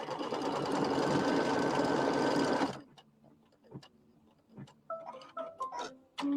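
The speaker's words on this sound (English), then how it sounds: "the next step, we'll sew those two pieces together" A sewing machine stitching two pieced fabric blocks together, loud and rapid for nearly three seconds before cutting off, followed by quiet handling clicks and rustles of fabric.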